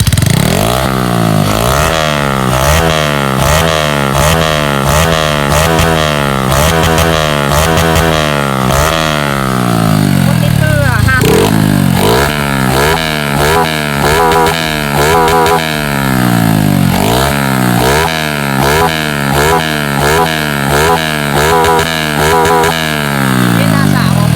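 A motorcycle with an AOM step exhaust pipe and a 53 engine step revs hard and loud, blipping the throttle repeatedly in rising and falling bursts over a constant throaty idle.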